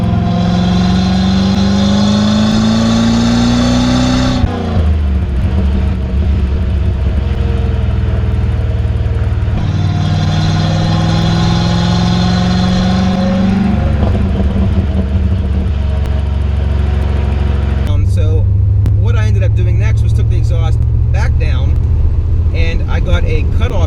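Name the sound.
C4 Corvette V8 exhaust idling with deep rumble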